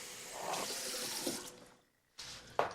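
Water pours steadily from a kitchen tap while filling for cooking rice, a broad continuous rush that cuts out briefly near the end before resuming with a splashy burst.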